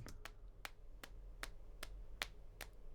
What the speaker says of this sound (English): That's just me clapping.